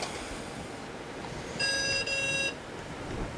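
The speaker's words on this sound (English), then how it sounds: "Got a good PC speaker." A Compuadd 386 PC speaker emits a single steady electronic beep lasting under a second, moderately loud over a constant background hum of fans and hardware.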